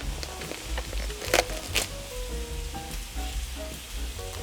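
Mushrooms tumble into a hot frying pan and sizzle steadily up close, with a couple of sharp crackles and light stirring clatter during cooking for a savory Yule log.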